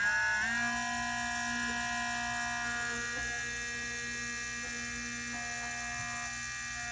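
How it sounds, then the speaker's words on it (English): A handheld engraving tool cuts the outline of a curved carbon-balsa spar for an F1D model, giving a steady, close, high-pitched motor whine that holds evenly throughout with no speech. "to show you how to cut my outline with this engraving tool."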